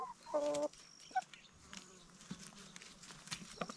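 A hen gives a short loud cluck-like call at the start, followed by scattered soft clucks and rustling at close range as chickens are fed caterpillars.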